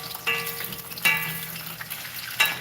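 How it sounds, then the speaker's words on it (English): Leftover Jamaican fried dumplings frying in a pan, a continuous close sizzle with a few sharper clicks and scrapes at intervals, no voices. "I'm frying them."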